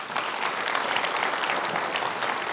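Steady applause from an audience at a live product announcement showcase, many hands clapping at once in a dense, even patter that holds for a few seconds without pause.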